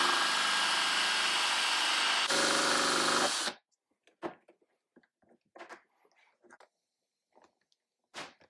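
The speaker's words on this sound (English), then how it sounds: "we're gonna stick the bit in a drill" A loud power drill cutting holes whirs steadily for a few seconds, pitch shifting partway, then cuts off, followed by scattered light knocks and clatter.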